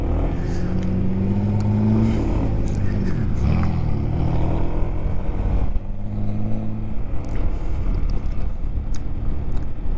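A car engine rumbles close by, its pitch shifting as it approaches and passes, with faint wind noise throughout, heard from a motorcycle.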